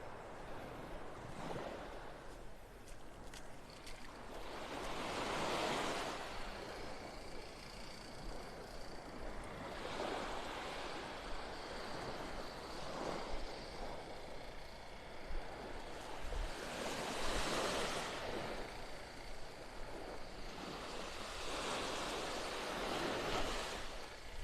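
Ocean surf rolling onto Vanderbilt Beach in North Naples, Florida as the tide goes out, waves breaking in slow repeated swells with some wind buffeting the microphone, no talking.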